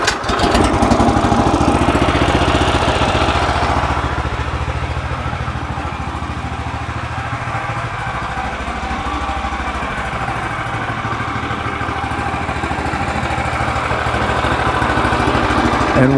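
A DK2 stump grinder's gasoline engine idles steadily and loudly, a continuous rough mechanical drone that holds nearly unchanged throughout with no voices.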